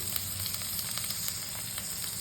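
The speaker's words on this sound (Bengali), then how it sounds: "হচ্ছে আলুর চোপা ভাজা করছি" Thick-cut potato peels fry in a pan, giving a steady close sizzle with crackling pops throughout and no voices.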